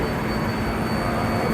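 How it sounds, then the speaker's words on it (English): An 11-car New York 7 subway train of R188 equipment, built between 2005 and 2010, produces a steady, continuous rumble with faint wheel and rail noise at a station, with no voices heard. "This is the 11-car train of R188 type equipment."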